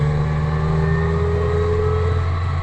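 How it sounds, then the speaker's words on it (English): A supercharged VW Polo G40 engine held at steady revs, its loud, close engine drone carrying a rising supercharger whine throughout, with no voices. "it's got that nice distinctive supercharger sound on it"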